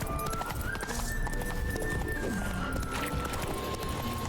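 Roach, the horse in the video game The Witcher 3, gallops with steady, muffled hoofbeats under a busy game soundscape and a faint sustained tone.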